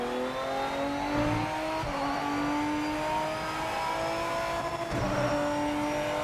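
A race car engine in the racing game PMR whines and hums steadily under load, with brief blips in pitch around gear changes as the driver rev-matches downshifts, continuous and fairly close with no speech.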